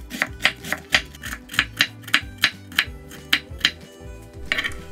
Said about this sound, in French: On commence à émincer notre chou.